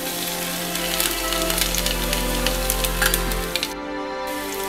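Ground fennel and crushed garlic fry in hot oil with a loud, close sizzle full of rapid crackling pops over a low steady hum, easing off toward the end.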